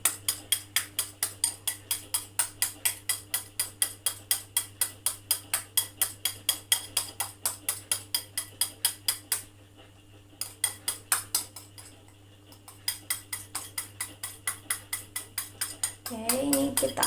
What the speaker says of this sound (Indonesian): ini kita aduk terus sampai dia benar-benar teksturnya kayak mayones pada umumnya